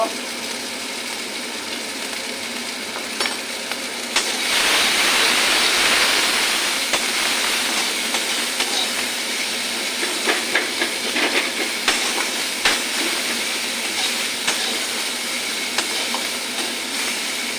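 Spices for tempering sizzle in hot oil in a pan while cooking ridge gourd bhorta. A loud hissing sizzle surges in after a few seconds and holds steady, dotted with small crackles and pops.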